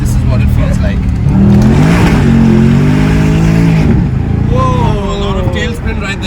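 A Mercedes-AMG S63 Coupe with 603 bhp and 900 Nm of torque accelerates hard with wheelspin, a loud rising engine roar with tire squeal, heard from inside the cabin.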